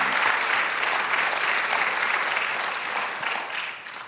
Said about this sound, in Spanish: Dile aplauso al Señor.